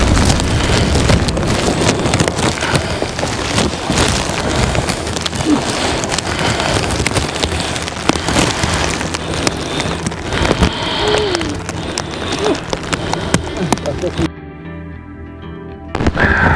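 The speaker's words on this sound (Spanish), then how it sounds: "nos hemos visto forzados a terminar la aventura porque nos ha sorprendido una lluvia torrencial" Torrential rainstorm pouring outdoors in a hillside village among the clouds, a dense steady roar of rain with wind buffeting the microphone throughout, cutting briefly quieter near the end before resuming.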